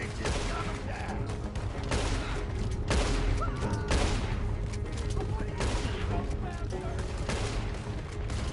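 Dense, rapid gunfire rattles without pause through a stagecoach robbery in Red Dead Redemption 2, loud and close, with shouting voices mixed in.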